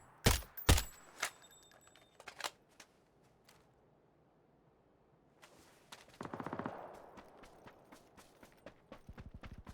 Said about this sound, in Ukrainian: Один синьки стріляє, інший цей.